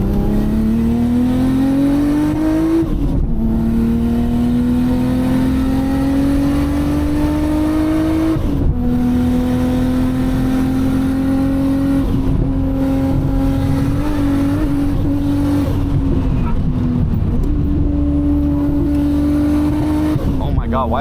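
A Nissan R32 GTR engine drones steadily from inside the cabin while driving, its pitch wavering and dipping unevenly at intervals, with a person talking over it throughout.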